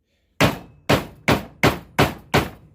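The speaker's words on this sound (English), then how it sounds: "I have to get a hammer." Six sharp hammer blows driving a part into a homemade hand dredge, evenly spaced about half a second apart, struck close by with nothing else in the background.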